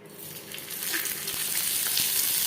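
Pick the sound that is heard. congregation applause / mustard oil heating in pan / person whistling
mustard oil heating in pan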